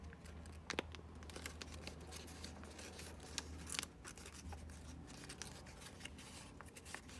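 Origami paper stretched and folded by hand, a continuous soft crinkling and rustling with a few sharper crackles and snaps, close and fairly quiet, no talking.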